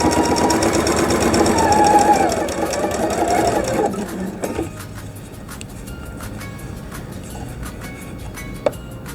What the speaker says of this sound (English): I usually pin those and just sew it away just like that